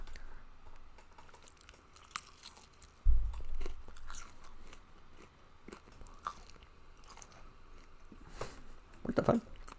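Crunchy food is bitten and chewed close to the mic in scattered crisp crunches, with a soft thump partway through and a quiet room behind.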